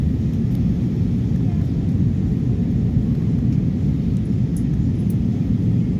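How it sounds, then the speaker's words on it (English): Steady, loud low-frequency roar inside an Airbus A320 cabin on final approach to Birmingham Airport with flaps extended, a constant engine and airflow drone holding level throughout with no distinct events. "now flaps have just went down, and now we're on final approach"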